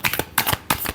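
Tarot cards getting a final quick shuffle, three brisk papery riffling bursts separated by short pauses, close up and with no voices.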